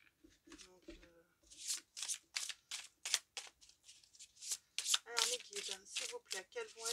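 A tarot deck is shuffled for a nine-card spread, the papery riffles and slides coming in rapid, repeated bursts close by, after a few faint murmurs of a voice at the start.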